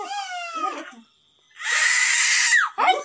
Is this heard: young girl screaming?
yes